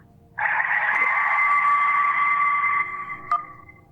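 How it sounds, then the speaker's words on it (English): A phone ringing underwater in the Kentucky Route Zero video game: a single sustained, warbling electronic tone, loud and muffled, holding for about two and a half seconds before fading with a brief blip at the end. "That was a phone ringing underwater."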